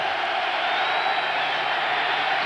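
Fans fill a Baltimore football stadium during a 1996 New England game with a sustained, even roar of crowd noise, a broad distant rumble of cheers that never drops or peaks sharply.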